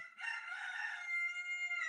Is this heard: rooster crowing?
yes